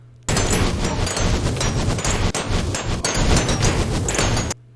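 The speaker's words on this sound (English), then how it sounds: "unfortunately Blaze Slayer kind of sounds like this" Dense, relentless barrage of explosive blasts and crackling impacts from a Blaze Slayer boss fight in Hypixel Skyblock, loud and continuous for over four seconds before cutting off, with no talk.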